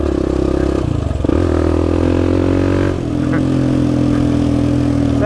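An off-road vehicle engine revs steadily on the Hatfield and McCoy Warrior Trail, climbing in pitch, briefly dropping at a gear change into fifth, then droning on loud and close with light clatter.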